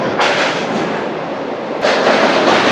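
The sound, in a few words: train crossing the Godavari road-cum-rail bridge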